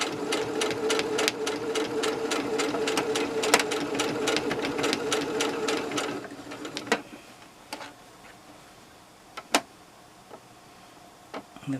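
A sewing machine stitching through foam for slippers runs at a steady fast whir for about six seconds, then stops, leaving a few scattered clicks and knocks.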